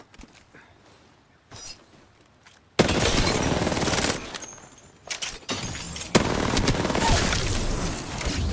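Loud sustained automatic gunfire from smart bullets in the Apex Legends video game, rapid bursts that start after a quiet stretch and run almost continuously with a brief dip midway.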